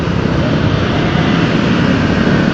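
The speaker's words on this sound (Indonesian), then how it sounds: "Waduh, motor apa itu, gede banget." Big motorcycle passing on a Jakarta street in afternoon traffic: a loud, steady engine roar close by that stays full for the whole stretch, with no talking.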